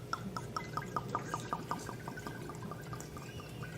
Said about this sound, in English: It's really hard not to make a glug,